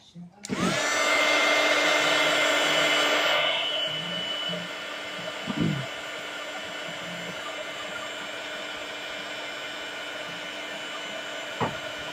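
A hair dryer blows steadily on a chocolate Christmas card decoration, starting loud and close then dropping to a softer, constant whir, with a few small knocks and handling sounds.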